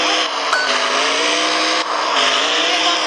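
A video-game car engine whines with a loud, steady buzzing drone that holds at a constant pitch for about three seconds, with only a couple of brief dips.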